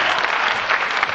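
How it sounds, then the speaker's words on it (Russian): Audience applause at a youth-league KVN comedy quarterfinal in a Navoi culture hall, a loud, dense and continuous clapping from the full house. "Они вам аплодируют"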